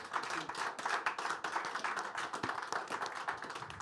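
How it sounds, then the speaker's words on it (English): An audience claps for panel speakers at a Davos economic forum session, a dense, steady wash of many hands sustained throughout at moderate level. "let's give these wise leaders a round of applause"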